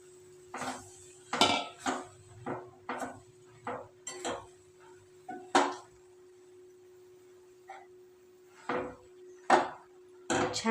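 Grated coconut stirred in a pan with a spoon, a series of distinct scraping and clinking strokes in an irregular rhythm, close and fairly quiet, with a steady faint hum underneath.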